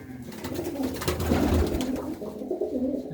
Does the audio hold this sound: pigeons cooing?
yes